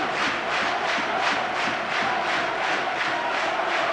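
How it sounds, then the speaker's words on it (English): Rugby league crowd at a 2008 Huddersfield Giants versus Catalans match, cheering and chanting for Huddersfield in a loud, continuous roar with a rhythmic pulsing swell, no voices standing out. "And the crowd getting behind them."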